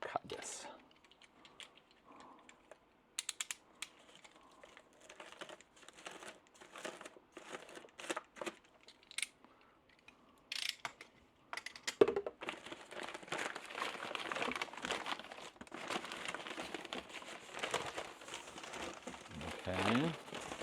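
Plastic packaging around a used power brick is cut and pulled open, with scattered crinkling, snipping and tearing that grows denser and louder toward the end, and a person speaks quietly in between.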